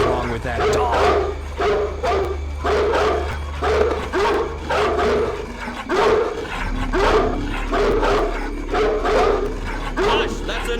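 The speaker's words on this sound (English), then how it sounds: "What the hell is wrong with that dog?" Repeated dog barks from Splinter Cell: Pandora Tomorrow come in a steady rhythm of loud, evenly spaced bursts over a low constant hum, continuing for the whole stretch.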